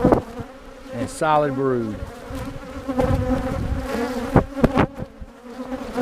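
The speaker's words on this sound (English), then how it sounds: "Bees are hitting that camera, but they're not bothering us at all." Honey bees buzzing thickly and close around an open hive, a steady swarming drone with occasional louder passes as bees hit the camera, while a person talks over it.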